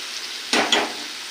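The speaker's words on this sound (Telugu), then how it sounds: "ఇది మొత్తం వేగడానికి ఒక 1/2 అవర్ టైం పడుతుంది" Food frying in a pan that needs frequent stirring to avoid burning gives a steady close sizzle, broken by two quick scraping stirs.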